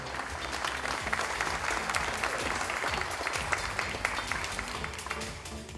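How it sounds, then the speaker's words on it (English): A large audience at a keynote in Brampton claps steadily and loudly, a dense continuous wash of applause throughout. "Give a big round of applause for Kulbir Colin."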